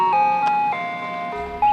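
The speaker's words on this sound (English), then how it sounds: "The sound of an ice cream truck driving through a neighborhood can be the most exciting part of any child's day." An ice cream truck drives through a neighborhood, its jingle playing a clear electronic melody of sustained tones that step between pitches, loud and alone.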